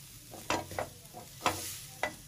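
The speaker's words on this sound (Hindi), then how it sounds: "अब इसके साथ हम अच्छे से इनको भूनेंगे।" Two tablespoons of flour roast in a pan over medium heat for a Turkish chicken soup, with a spoon scraping and stirring in several distinct strokes over a soft sizzle.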